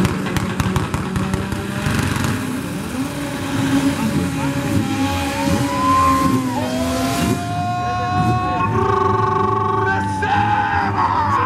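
A Volkswagen Gol 4x4 drag car launches and runs down the strip at a drag racing event, its loud engine note rising through gear changes with harmonic sweeps, while spectators yell and people talk nearby.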